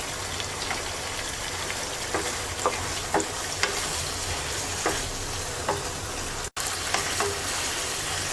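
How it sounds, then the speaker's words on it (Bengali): Slit green chillies sizzle steadily in a pan of frying oil, a dense rain-like crackle with occasional soft taps of a stirring spoon and one very brief break partway through. "পাঁচটা কাঁচামরিচ ফালি দিয়ে দিচ্ছি।"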